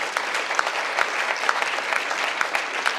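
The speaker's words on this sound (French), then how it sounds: "Vous pouvez applaudir, j'ai entendu 1 ou 2 applaudissements." Audience applause at a French ministerial address by the Minister of Culture and Communication, a steady dense patter of many hands clapping with scattered louder claps, continuous for the whole stretch with no talk over it.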